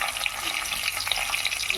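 Stuffed bitter gourds frying in hot oil with curry leaves in a pan, a dense, even crackling sizzle heard up close with small pops scattered through it.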